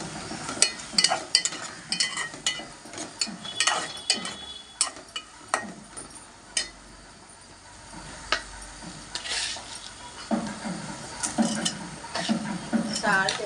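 Spoon stirring a prawn and raw mango coconut curry in a pan, with irregular scraping and clinking knocks and a light sizzle, close by, while someone talks over it.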